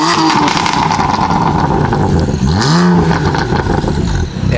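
BMW F80 M3 engine revving hard, a loud continuous roar with a rising whine as the turbo spools up mid-rev, then settling back.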